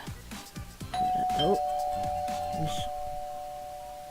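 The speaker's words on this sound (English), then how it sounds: "So that's a doorbell." A household doorbell chimes out a clear ding-dong that rings on and sustains through the rest of the moment, beneath scattered bumps and a brief spoken exclamation.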